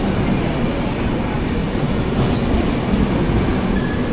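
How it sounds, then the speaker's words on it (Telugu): A passenger train runs at speed with its coaches swaying, giving a loud, steady rumble of wheels and rail noise close by, with no voices. "అసలు స్పీడ్ చూడండి, నేను కోచెస్ ఎలా ఊగుతున్నాయో."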